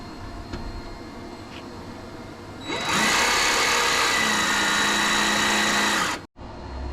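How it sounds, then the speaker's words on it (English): A jigsaw starts up partway through and cuts steadily with a loud, buzzing rasp for a few seconds, cutting a hole for a switch panel in a Land Rover Defender, before abruptly stopping. "So now I'm going to jigsaw out the hole for the switch panel."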